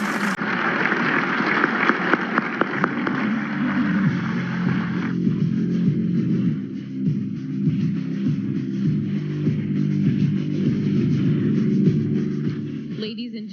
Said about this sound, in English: please give a round of applause for our great panelists.